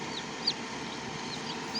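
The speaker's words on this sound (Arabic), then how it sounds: "كتكوت اهو طالعة من البيضة" A newly hatched chick peeps a few times, high and thin, from a homemade foam incubator. The peeps are brief and faint over a constant steady hum.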